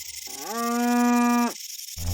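A cartoon cow in an animated story gives a single long, loud moo that holds a steady tone for about a second before cutting off, with no talk over it.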